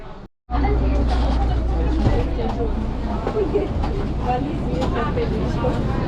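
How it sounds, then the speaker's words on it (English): Vienna subway train at Stephansplatz station, a loud continuous low rumble of the car and platform with murmuring voices mixed in, after a brief dropout at the start. "And I'm now just getting off the subway at Stephanplatz."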